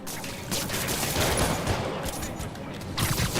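Rapid bursts of gunfire from enemies in a Marvel's Spider-Man Remastered fight, dense and continuous across the span with a loud flurry near the end, a voice faintly present underneath.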